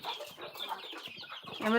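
Pet hens kept and pampered at home cluck in short broken bursts close by, with a louder squawking call rising at the end; a human voice murmurs faintly in between.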